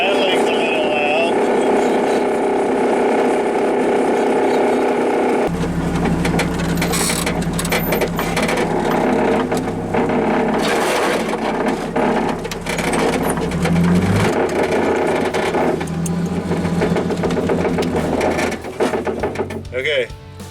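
A rat rod car on the road, with loud continuous rattling and clanking from the body and road rumble under a running engine, close and sustained throughout, with occasional bumps and heavier thuds.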